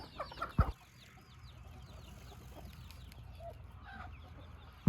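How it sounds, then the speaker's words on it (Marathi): Free-range desi chickens on a poultry farm cluck and chatter in soft, scattered calls over quiet outdoor ambience, with a few sharp knocks near the start and end. "तुम्ही बघू शकता पूर्ण कसं आपलं फ्री रेंजमध्ये कोंबड्या फिरतात"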